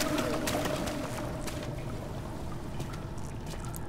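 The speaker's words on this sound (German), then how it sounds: "Diese Kiste wird jetzt mit Wasser gefüllt." Water pours steadily into a box in Amnesia The Dark Descent, a continuous rushing wash with a faint low rumble underneath. It plays alone without talk for about four seconds.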